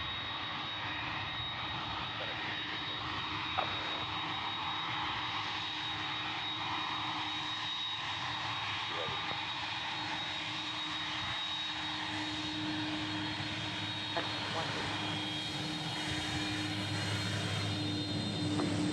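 FedEx Airbus A300 heavy jet on approach to Memphis International Airport, a continuous loud engine roar that builds slowly across the whole stretch, with no voices.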